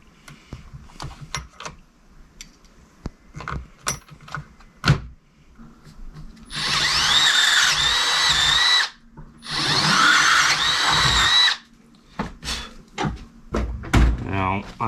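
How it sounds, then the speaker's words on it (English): A cordless power drill with a 3/8 drill bit bores out center bolts in two long whining bursts, close and loud, between clanks and handling noises of a mounting job, with a voice talking before and after. "Now I open that up with a 3/8 drill bit."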